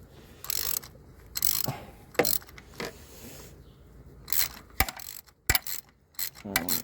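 Metal tools ratchet and click while loosening a spark plug during servicing of a Citroen C1, with a series of short, sharp clatters and scrapes spread irregularly through the clip at close range.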